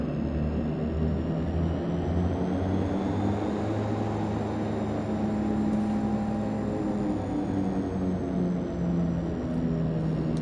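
An airliner taxiing in the Prepar3d flight simulator, a steady engine drone with a high whine above it, continuous and even, no voices.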